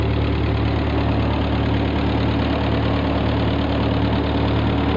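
A 1948 Ford 8N tractor engine runs steadily at idle, a loud, close, even chugging rumble with a faint knocking beat throughout and no speech.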